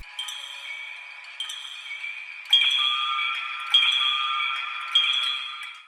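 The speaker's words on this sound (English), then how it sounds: "this is an unused cave sound" Unused cave ambience from the video game Minecraft: clear, bright ringing pings and sustained glassy tones, with new notes striking every second or so and hanging on as they fade. No voices.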